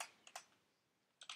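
Keys tapped on a computer keyboard, a few quick clicks, a pause, then a fast cluster of close, crisp keystrokes in a quiet room.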